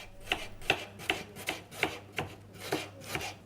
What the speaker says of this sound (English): I've got to cut the onions